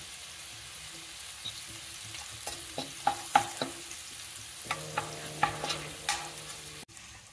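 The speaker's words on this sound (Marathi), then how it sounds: "इकडं थोडंसं तेल टाकतोय आणि त्याच्यामध्ये हिंग टाकून घेतलं लगेच" Asafoetida fries in a little hot oil, giving a low sizzle under several sharp clinks and scrapes of a spoon against the pan, then a short rattling stir near the end.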